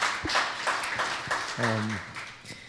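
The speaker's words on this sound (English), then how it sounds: "big round of applause for Silicon Slopes" An audience applauds at a tech community event, with a steady patter of clapping throughout and a brief voice speaking partway through.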